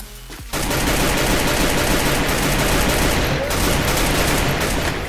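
Sustained automatic gunfire in the Garena Free Fire battle-royale shooter, a loud continuous burst of rapid shots starting abruptly and running unbroken for several seconds.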